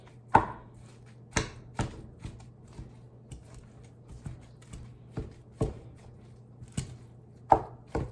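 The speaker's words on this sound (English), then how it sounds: "Chop it up, keep her moving, stir it around." Food chopped in a pan set on medium-high heat, a series of about a dozen crisp knocks at uneven intervals, close and distinct over a faint steady hum.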